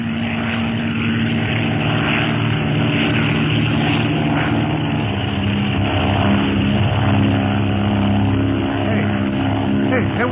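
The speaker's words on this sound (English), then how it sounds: "It's a plane, all right." A propeller airplane drones loudly and steadily as a radio drama sound effect, a continuous engine roar that holds throughout without pause.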